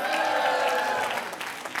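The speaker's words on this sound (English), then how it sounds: "You can clap for that." An audience at an Asian-Pacific American Heritage Month reception bursts into applause, a dense, even wash of clapping that holds for over a second and then thins out.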